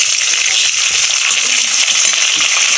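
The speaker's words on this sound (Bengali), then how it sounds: "এই যে দেখেন পেঁয়াজগুলো কিন্তু লাল লাল করে ভাজা হয়ে গেছে" Onions fried in a pan with garlic paste and onion paste just added give a loud, steady sizzle that runs the whole time, with light stirring and no talk.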